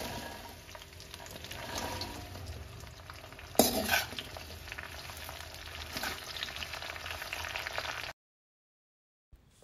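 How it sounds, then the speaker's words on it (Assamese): Jujubes frying in mustard oil with panch phoron over a high flame, a steady close sizzle with stirring scrapes and one brief louder clatter, ending abruptly in silence. "তাতে বগৰীখিনি এড কৰি দিম আৰু 2 মিনিটমান সময় ফাৰ্ষ্টত হাই ফ্লেমত ভাজি লওঁ।"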